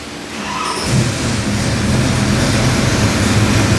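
Chevy small block 427 cubic inch crate engine rated 550 horsepower starting on a dyno: a loud burst as it catches, then a steady, dense rumbling idle filling the room.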